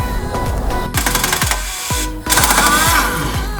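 Rapid rattling bursts from an impact wrench tightening suspension nuts on a BMW Z4 during a sport suspension swap, loud and close, with several short hammering runs separated by brief pauses.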